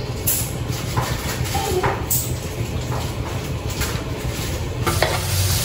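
Menudo cooking in a pan, stirred steadily with a constant sizzle and scraping over a low background hum, no voices.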